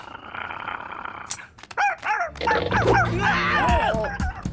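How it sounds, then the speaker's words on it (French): A dog growls and barks, with whimpering yips mixed in, close and fairly loud in a cartoon scene. "Désolé, mon chien, il adore jouer dehors."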